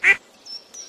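A duck in the farming game Stardew Valley gives one loud, close quack, followed by faint high tones and a small blip.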